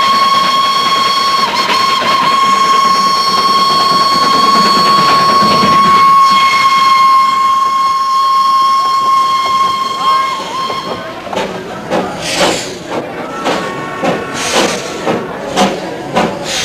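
A small Indian hill train runs down a town's main street, a long steady whistle tone sounding for about ten seconds over rumbling wheels, then rhythmic clanking of wagons over rail joints, close and fairly loud.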